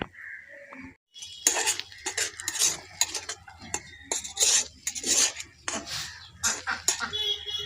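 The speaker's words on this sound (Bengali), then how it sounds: "এবার আমি নাড়াচাড়া করে নেব।" Spices such as turmeric and cumin being stirred and scraped in a pan with a metal spoon, a run of loud close rasping strokes with clinks and brief pauses between.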